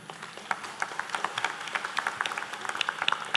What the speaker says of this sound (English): give them a big round of applause for the impressive presentation.